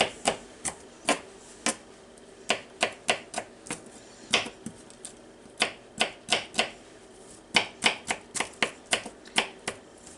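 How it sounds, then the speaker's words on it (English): A knife dices green peppers on a cutting board in a home kitchen, making sharp, close chopping taps in quick irregular bursts with brief pauses between. "I just dice them up."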